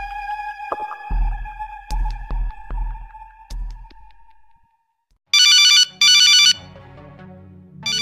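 A mobile phone ringtone sounds loudly for an incoming call, coming in two bright, clear bursts after some low thumps and tonal beeps, with no one talking over it.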